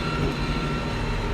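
Constant low rumbling roar of a 2005 Kubota M105X, a 105-horsepower M series farm tractor cutting hay, running steadily and close with no voices over it.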